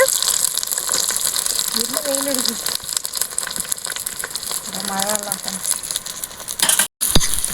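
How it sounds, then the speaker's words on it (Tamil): Onions and green chillies with curry leaves sautéing in a pan for a village-style mushroom gravy, a steady close sizzle with scraping stirs and a brief voice partway through. "இப்போ கொஞ்சம் நேரம் வந்து நல்லா வதக்கிக்கலாம் இந்த வெங்காயமும் மிளகாயும் நல்லா பொன்னிறமாக செவக்கட்டுங்க"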